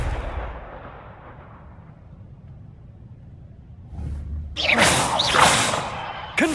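Confringo spell cast in Hogwarts Legacy, a low rumble followed by a bright whooshing fiery blast with sharp crackling streaks, loud and close.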